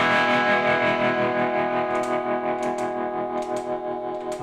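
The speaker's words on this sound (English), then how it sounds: "I'm going to put a little bit of a tremolo" Slide guitar with a tremolo effect, a loud sustained tone that pulses steadily and rings on continuously with faint clicks on top, no talking.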